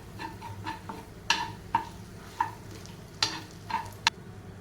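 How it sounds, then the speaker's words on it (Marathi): Spoon stirring red chilli and coriander powder into ginger garlic frying in a pan, with a steady low sizzle and sharp periodic clinks of the spoon against the pan, about seven strokes, close and alone. "अर्धा चमचा लाल मिरची पावडर एक चमचा धने पावडर हे सर्व मिक्स करून घेऊया"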